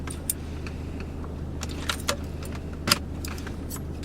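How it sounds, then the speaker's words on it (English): Metal radio removal keys slide into the slots of an Audi A4 head unit with RNS-E navigation, giving a few brief light metallic clicks and jingles over a steady low background hum. "You're going to put your radio removable keys in."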